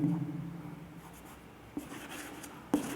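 A pen writes numbers by hand on paper, with soft scratchy strokes and a couple of sharper taps, close and quiet with no talking.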